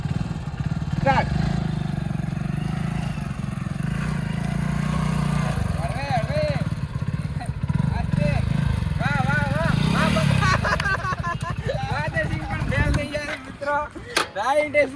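A motorcycle ridden during an RTO bike driving test, its engine droning steadily at close range beneath people talking, with brief revs before it drops away near the end.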